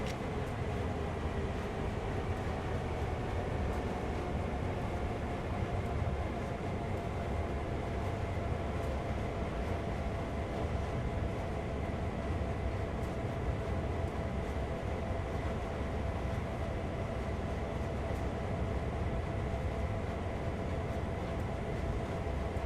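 A locomotive in Train Sim World 2 rolls slowly toward a cut of railcars to couple up, giving a low, steady rumble of engine and wheels with faint squeals, continuous and fairly quiet, with no voices.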